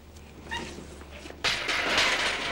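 Street cat with kittens meowing in Istanbul, a few short faint mews followed by a burst of louder broadband noise.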